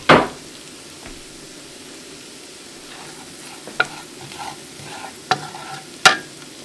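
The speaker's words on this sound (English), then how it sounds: "I switched over to a whisk. It might help to break up the miso." A whisk stirring miso sauce in a pan, with a soft background sizzle and a few sharp scraping clicks against the pan, moderately close and without talk.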